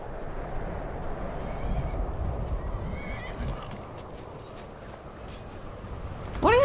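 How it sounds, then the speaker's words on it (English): A horse whinnies in a tabletop game session, with a sharp neigh bursting out at the very end after a stretch of low rumbling ambience and faint clip-clop. "What are you doing to that horse?"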